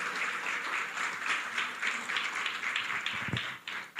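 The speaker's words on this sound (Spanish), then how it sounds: "denle un aplauso a ese Dios que tenemos" A church congregation claps during a sermon, producing an even wash of applause that keeps up steadily, with a couple of louder thumps near the end.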